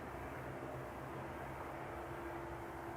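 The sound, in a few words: KLM Airbus A330 airliner at Edmonton International Airport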